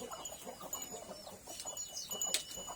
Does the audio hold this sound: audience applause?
no